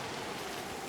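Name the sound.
rain falling in the video game Gord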